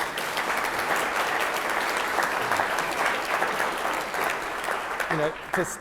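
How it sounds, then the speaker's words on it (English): Loud, sustained applause from a large crowd at a public election meeting in Auckland, a dense steady patter of many hands clapping that carries on for several seconds, with a voice briefly near the end. "Can we have a round of applause for our fantastic candidates here?"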